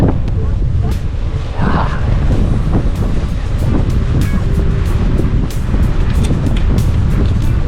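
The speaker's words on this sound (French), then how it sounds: "Oh, petit vent, là dis donc." Steady wind buffeting the microphone on a bike ride, a broad continuous rumble filling the whole stretch with a few faint clicks and bumps along the way.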